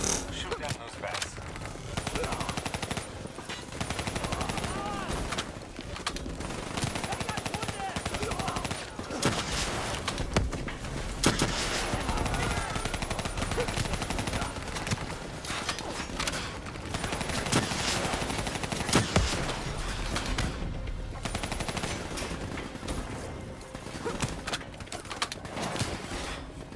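Rapid gunfire from Call of Duty Black Ops 3 while shooting down bats, dense bursts of automatic shots repeating across a loud, busy game soundscape with talk over it.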